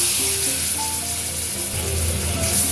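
Spice paste of ginger, garlic, green chilli, peppercorns, onion and tomato hitting hot oil with dried red chilli and turmeric for a Bengali fish curry with bori and potatoes; a loud, close, continuous sizzle with bubbling.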